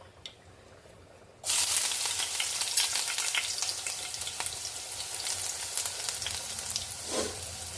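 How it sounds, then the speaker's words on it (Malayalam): Crushed ginger dropped into hot oil in a pan that already holds popped mustard seeds, during home cooking. A sudden loud sizzle bursts in after a quiet start and keeps crackling steadily, with a brief stirring scrape near the end. "കടുക് പൊട്ടിക്കഴിയുമ്പോൾ നമുക്ക് ഇഞ്ചി ചതച്ചത് ഇട്ട് കൊടുക്കാം"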